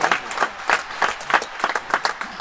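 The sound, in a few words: crowd applauding a real tennis shot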